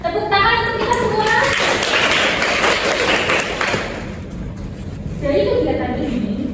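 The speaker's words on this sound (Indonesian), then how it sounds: "Tepuk tangan untuk kita semua" Classmates in a school lesson on cubes and cuboids clap together for the groups that presented and asked questions, a dense burst of hands in the middle, with children's voices before and after.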